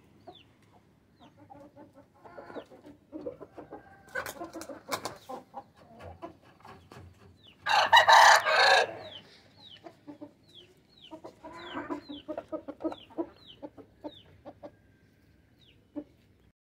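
Hens and a large rooster cluck and call close by in a farmyard, with scattered short clucks throughout and one loud, drawn-out crow in the middle.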